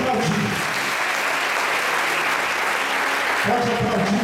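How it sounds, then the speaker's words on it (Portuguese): A church congregation breaks into sustained applause during a sermon, a broad, even roar of many hands clapping for several seconds, with the preacher's voice heard briefly at the start and end. "Pode aplaudir."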